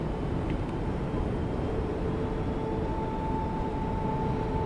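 Locomotive engine in Train Sim World throttling up at notch 6 on the Liberec to Stara Paka line, a loud, steady low roar with a faint whine, continuous and dense throughout.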